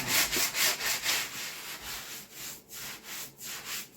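Steady hand sanding of body filler on a Toyota Sequoia's metal body, a rhythmic back-and-forth rasp repeating about twice per second, close and fairly loud, with no voices.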